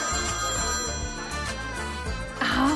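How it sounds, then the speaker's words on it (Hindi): A telephone rings with a repeating electronic tone, heard under a soft, continuous bed of dramatic background music in a domestic scene. "हाँ, मेरे होने वाले जीजा जी का फोन है।"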